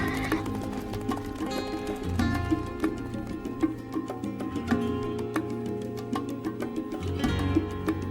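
Horses neighing and hooves clopping, loud whinnies over a busy rhythmic clatter of hooves, heard alongside music in a documentary setting about horses used for transport and war.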